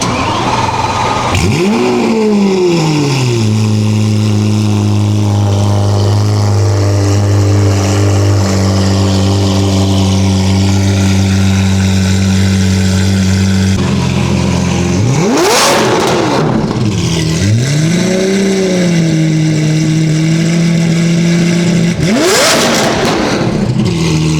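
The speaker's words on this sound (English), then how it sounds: "let's hear the cold start on the Gintani F1 system paired with the tune" A Lamborghini Aventador S with a Gintani F1 exhaust system and tune fires up from cold with a loud bark and settles into a high idle, then is revved twice, each rev rising sharply and dropping back.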